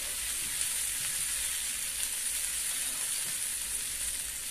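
Tandoori paneer tikka cooks with a steady, even sizzle and fine crackle, fairly close and continuous throughout, with no talking.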